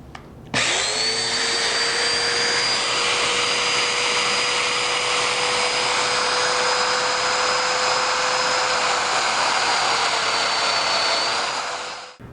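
Domino joiner cutting mortise holes in cabinet side panels, a loud, steady high-pitched motor whine with a buzzing cutter that starts abruptly and runs continuously for about twelve seconds before winding down.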